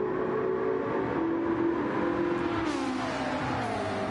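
Race car engines in a Gran Turismo race chasing a Porsche and a Toyota Supra through the S-curves, a steady droning whine whose pitch climbs and shifts as the cars accelerate, moderately loud and without voices.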